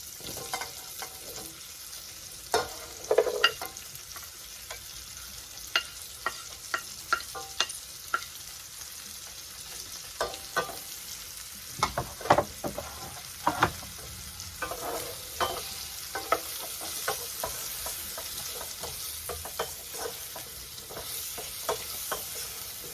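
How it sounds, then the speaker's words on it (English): Mushrooms fry with chicken and potatoes in a single pan, a soft continuous sizzle broken by frequent sharp clacks and scrapes of a utensil stirring, close and moderate in level, with no talk. "now I'm going to add the mushrooms to it"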